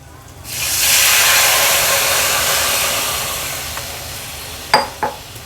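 Coconut and kokum milk poured onto a hot sputtering tempering of spices, a sudden loud hiss that slowly fades, followed by two brief clinks near the end.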